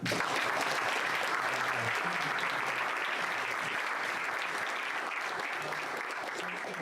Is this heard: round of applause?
yes